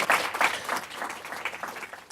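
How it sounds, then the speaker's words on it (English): A room of people at a gathering on business solutions for plastic pollution gives a round of applause, a brief, fairly distant patter of many hands that fades within about two seconds. "Just a round of applause for our team against trash in this region."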